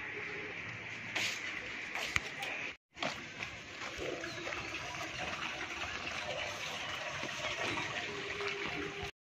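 Water gushes steadily as it is poured out for birds to drink, a continuous splashing flow that cuts off briefly in the middle and stops at the end.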